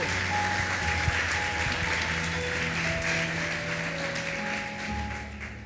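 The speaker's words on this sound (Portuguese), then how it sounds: "Você pode aplaudir a Jesus, por favor?" A church congregation claps together, a moderate, continuous patter of applause with sustained musical tones, like a keyboard, playing underneath throughout.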